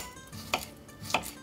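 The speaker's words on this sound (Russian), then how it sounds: "и порежу чесночок." Two crisp knife taps on a cutting board as garlic is chopped in a home kitchen, spaced about half a second apart over a soft, steady background hum.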